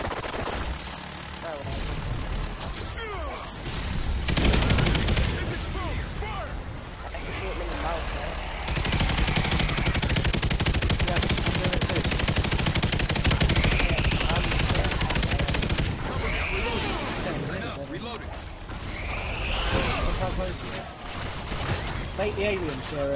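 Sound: gunfire in a video game (NightFall)

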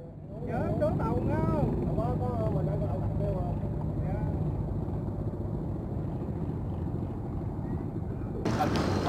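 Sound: boat engine at a floating market

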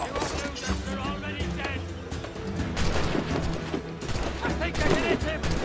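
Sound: gunfire from soldiers in Assassin's Creed Black Flag video game

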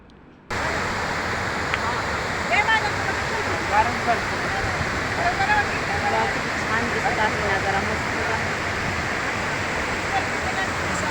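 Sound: flowing water at a village check dam

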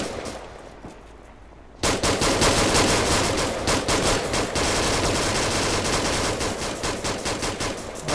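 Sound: gunfire in the video game Arma 3

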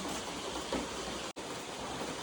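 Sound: heavy rain

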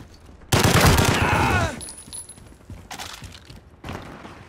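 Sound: automatic weapon gunfire in a video game gunfight

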